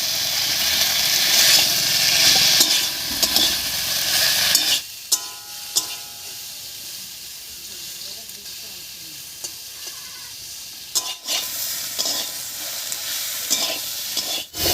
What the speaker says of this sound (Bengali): টমেটো দিয়ে সজনে আর আলুর সঙ্গে ভালো করে মিশিয়ে নিয়েছি